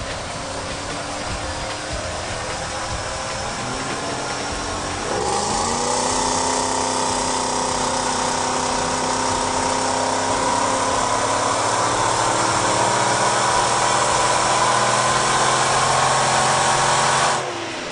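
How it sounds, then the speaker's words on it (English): A supercharged 2006 Torch Red Mustang GT with a T-Trim Vortech supercharger and tuned engine roars on a rear-wheel dyno, a loud sustained drone that climbs in pitch as revs build, then holds high before cutting off. "We strapped our Torch Red GT down, put the Diablo Sport Predator tune-up in her,"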